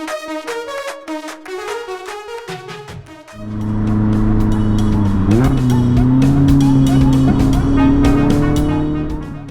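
Mazda Miata roadsters leave a ferry and head onto an open road, their engines rising into a loud, steady drone that holds close and strong before easing slightly at the end, with no talking.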